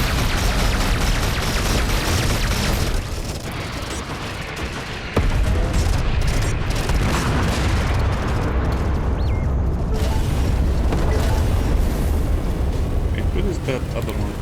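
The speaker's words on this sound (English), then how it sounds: "Let's use the rest of the missiles." Missiles launching and exploding in a space combat video game, EverSpace 2, a dense continuous roar of booms and blasts filling the whole stretch, loud and close with a heavy rumbling low end.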